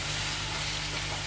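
Green peas sizzle steadily in a hot pan with spices while cooking for matar pulao, a constant close, even frying hiss with no pauses.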